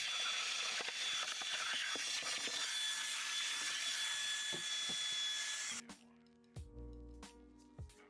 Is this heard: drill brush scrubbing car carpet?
yes